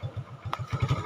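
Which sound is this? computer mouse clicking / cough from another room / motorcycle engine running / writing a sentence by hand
motorcycle engine running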